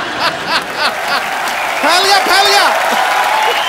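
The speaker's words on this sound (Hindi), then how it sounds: "जोरदार तालियों के साथ स्वागत कीजिए डॉक्टर मशहूर गुलाटी जी का" Brief burst of audience applause welcoming a guest, Doctor Mashhoor Gulati, on a comedy show stage, clapping that quickly gives way to someone talking over a lingering crowd murmur.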